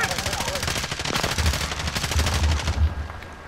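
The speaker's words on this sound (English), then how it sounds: "Where's that shooting coming from?" Gunfire in the video game Call of Duty, loud rapid automatic bursts crackling almost continuously before tapering off at the end.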